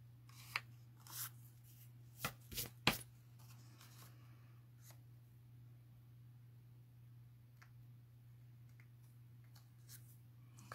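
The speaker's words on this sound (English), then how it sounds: "But the envelopes are thin, so go gently when you slice them." A new craft blade slices through thin paper envelopes in a few quick, soft scraping cuts early on, then quiet with faint small taps over a steady low hum.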